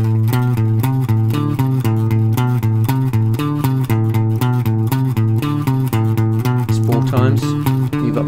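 An electric guitar plays a repeating blues riff, notes stepping steadily along the lower strings and back. The riff is loud and close, played alone without talking.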